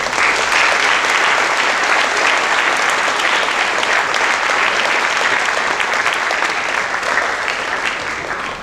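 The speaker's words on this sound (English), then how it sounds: "Please give them a round of applause" Sustained loud applause from an audience at a high school academic awards assembly, a dense even wash of clapping that holds steady for several seconds before easing slightly.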